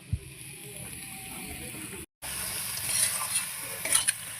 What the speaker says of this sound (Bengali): ধনিয়া পাতাটা দেওয়ার পর আমি ভালোভাবে মিশিয়ে নিচ্ছি।